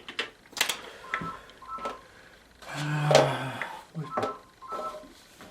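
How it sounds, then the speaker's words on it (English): A telephone rings in a room where someone is painting a watercolour, sounding as a series of short, repeated electronic tone bursts at moderate volume with faint noises between them. "Don't you hate the phone?"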